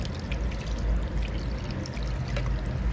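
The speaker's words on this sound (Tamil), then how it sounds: "புளி தண்ணி ஊற்றியாச்சு." Tamarind water poured into a fish curry in a home kitchen, a steady close liquid stream splashing continuously for three seconds without talk.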